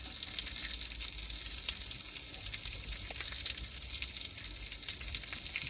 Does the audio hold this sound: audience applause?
no